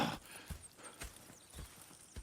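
Horses in a Red Dead western video game, with faint hoof clops at a slow, regular walking pace and a soft snort or whinny, quiet and close.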